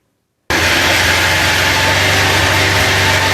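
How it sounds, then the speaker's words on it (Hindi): A motorcycle engine kicks in abruptly after a moment of silence and runs on loud and steady, with a constant close-up drone and a slight flutter, and no speech. "अभी मैं अपनी मोटरसाइकिल को दोबारा स्टार्ट करके आपको दिखाता हूँ"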